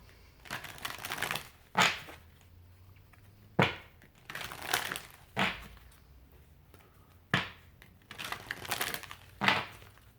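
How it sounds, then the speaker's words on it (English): Soul journey tarot cards being taken out and handled, a run of close crisp shuffling, tapping and card-slapping sounds in irregular bursts, moderately loud with no voice. "Let's get some soul journey cards out."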